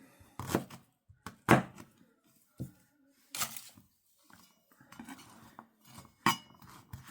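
A knife chops onions on a cutting board, giving a series of irregular, fairly close thunks and clicks with short pauses between cuts.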